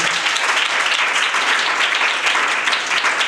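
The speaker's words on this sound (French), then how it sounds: "On acclame pour le Seigneur Jésus." A church congregation breaks into sustained applause for Jesus, a dense, loud wash of many hands clapping together without pause for a few seconds.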